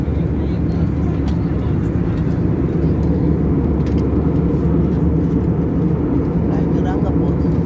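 Steady, loud cabin drone of a small airplane on a flight from London to France, a dense low engine roar that holds unbroken throughout.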